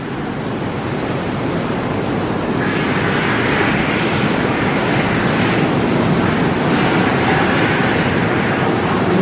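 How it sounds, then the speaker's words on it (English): Bubbling water churns continuously in a hydrotherapy pool at a thermal spa, a loud, dense, unbroken rush of bubbles and splashing up close. "there's all the bubbles, so you get some good relaxation"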